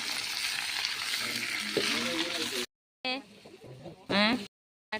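Singapore cheera leaves for thoran sizzle in a pan as they are stirred, a steady frying hiss broken by two short silent gaps, with a person talking over the cooking.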